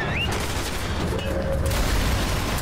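Gunfire from the Resident Evil 6 video game, a dense burst of shots and booms running steadily throughout with no talk over it.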